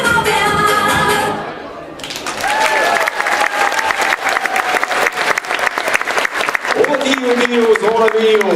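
An audience applauds after a playback singing performance at Pärnumaa Playback 2019, starting with a brief quieter moment and then swelling into loud, sustained clapping, while an announcer speaks over it.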